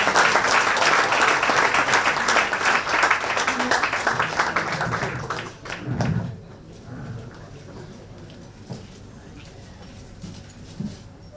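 An audience claps loudly at a student award ceremony, dense applause in a hall that fades out after several seconds, leaving room noise and scattered sounds.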